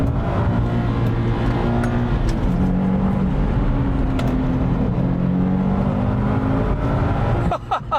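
A Subaru WRX STI S206 with a 2-litre engine revs toward its 8,000 RPM redline, a steady loud engine tone holding and climbing for several seconds before cutting off abruptly near the end.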